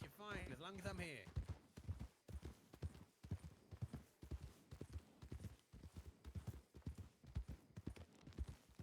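Horse hooves clip-clop steadily in a roleplay video game, with a brief whinny at the start and then a rhythmic trotting patter, and people talk over it throughout.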